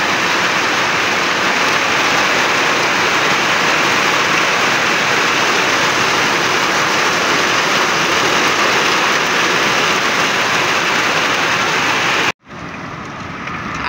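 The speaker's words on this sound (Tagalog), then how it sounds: "Ang lakas ng ulan." Heavy rain pouring in a dense, steady roar for about twelve seconds, then cutting off abruptly to a quieter hiss.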